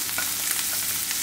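Finely chopped large onion sizzles in hot oil in a pan over a medium flame, a brief, continuous crackling fry with soft stirring scrapes and no speech.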